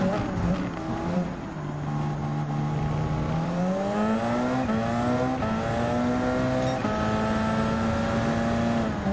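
Mercedes-Benz CLK GTR LM race cars in Gran Turismo 7 hold a steady, loud engine drone that climbs in pitch through the gears, rising and holding high revs, with no talking.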